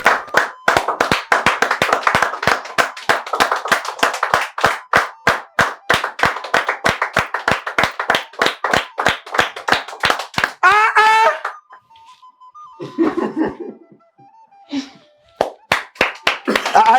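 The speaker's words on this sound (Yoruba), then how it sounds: "Tún pàtẹ́wọ́ ṣe bí ó ti tó." A group of people clap their hands together in a loud, steady, fast rhythm of sharp claps lasting several seconds, then stop, leaving brief voices and short sounds behind.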